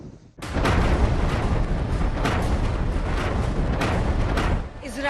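Repeated booming blasts of Israeli artillery cannons firing on the Gaza Strip, a dense, loud barrage of heavy explosive rumbles sustained almost continuously, with no speech over it.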